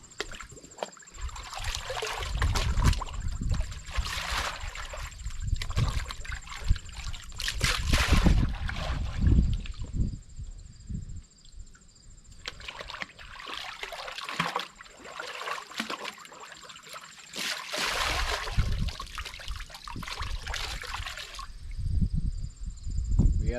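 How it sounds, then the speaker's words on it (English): A raccoon hide being rinsed with water: repeated bursts of splashing and running water, loud and close, with quieter pauses between them. "Then we'll give it a rinse."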